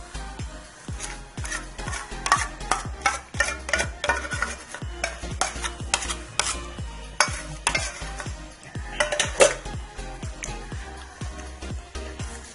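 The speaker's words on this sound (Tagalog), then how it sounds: "At haluin hanggang sa mag-combine ng maigi." A spoon scrapes rhythmically around a pan as milk and condensed milk are stirred together for pastillas, repeated clacking strokes with a faint simmering hiss underneath, close and clear with no talking.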